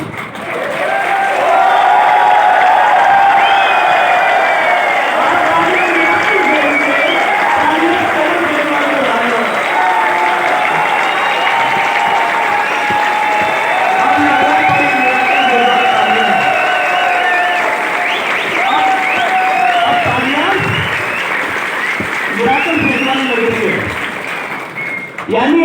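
An audience applauds and cheers for a long stretch, sustained dense clapping with voices and shouts rising over it, loud and continuous throughout.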